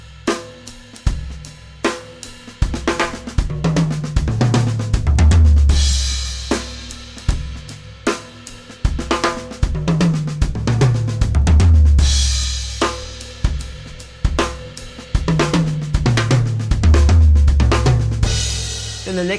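A drum kit plays two bars of steady time and then a 2/4 pattern spread across two bars of 4/4, with crisp cymbal and snare hits over rhythmic low tones and no talk.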